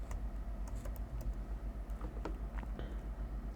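Java code is being typed on a computer keyboard, producing a quick run of light, close key clicks in an uneven rhythm over a low background hum. No one speaks.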